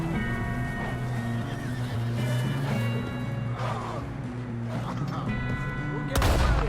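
A horse in the Red Dead Redemption 2 video game neighs amid galloping hooves and gunfire, with a sharp burst of noise near the end and no clear talking.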